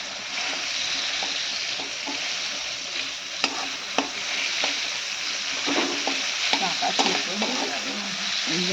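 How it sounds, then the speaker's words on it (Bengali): Tomatoes frying in a pan with a little salt, a loud continuous sizzle close up, broken by occasional spatula taps and stirring scrapes that grow busier toward the end. "আগে টমেটোটা ভেজে নিচ্ছি এইভাবে"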